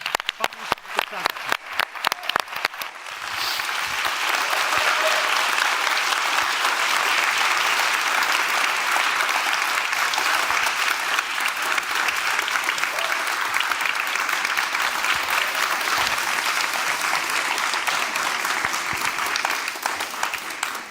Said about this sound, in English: I'm going to ask everyone to give them another round of applause